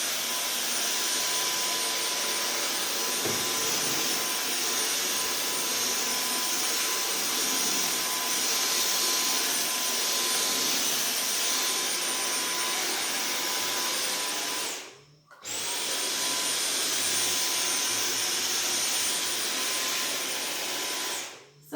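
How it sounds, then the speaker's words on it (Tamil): Vacuum cleaner fitted with a small brush attachment, cleaning sofa upholstery: a loud, steady whirring roar that holds for about fifteen seconds, cuts out briefly, then starts up again, with no talking. "இந்த வேக்யூம் கிளீனர் இந்த சின்ன ப்ரெஷ்ஷை போட்டு விண்டோ கிளீனிங் பண்ணுற மாதிரியே இந்த அப்போல்ஸ்ட்ரியும் க்ளீன் பண்ணலாம்"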